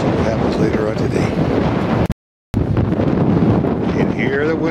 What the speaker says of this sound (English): You can hear the wind howling now.